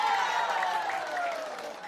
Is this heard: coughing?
no